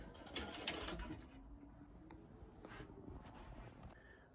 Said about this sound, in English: a pigeon was attacking my window